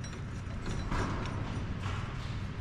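A hand-turned tightening mechanism is cranked clockwise to tension a belt, giving a steady, close mechanical grinding with faint ratcheting clicks throughout.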